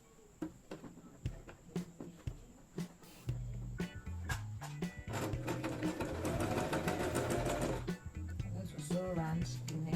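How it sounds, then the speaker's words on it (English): A domestic sewing machine stitches bias binding around the neckline of a short-sleeved buba blouse, running in short bursts at first and then in a longer steady whir, with a loud, close mechanical hum. "I'm going to place the bias on it like so, and then we'll sew round."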